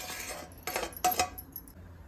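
Roasted semolina is moved from a frying pan onto a plate with metal utensils, producing a few close, sharp clinks and scrapes over a quiet background.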